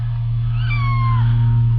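A kitten rescued from garbage in a trash truck gives a single thin, rising-then-falling meow over a loud, steady engine hum.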